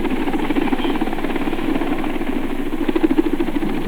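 A helicopter on a mountain rescue airlift thumps with fast, steady rotor beats under a loud engine drone, close and continuous throughout with no speech.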